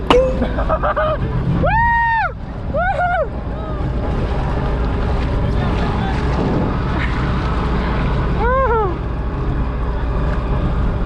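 A motorboat towing a wakeboarder hums steadily with constant engine and water rush, loud and close, while wind buffets the microphone and a few brief whistle-like tones sound early and near the end.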